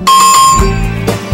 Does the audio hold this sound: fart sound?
no